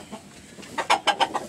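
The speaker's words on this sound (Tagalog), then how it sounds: "So, nagpapatuka ako ngayon." Chickens cluck at close range while pecking at feed mixed with cooked rice and burnt rice crust. A quiet stretch gives way to a quick run of four or five clucks.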